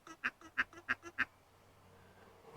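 A rebuilt fuel pump from a 1964 Triumph Herald ticks in a quick burst of six rhythmic pulses, faint and nasal-sounding, then fades to a low steady hum.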